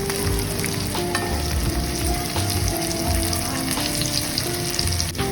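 Stuffed okra, Gujarati bharela bhinda with masala filling, frying in a pan over a low flame: a steady, close, even sizzle throughout with faint occasional clinks.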